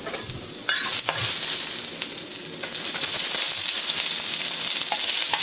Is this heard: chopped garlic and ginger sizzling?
yes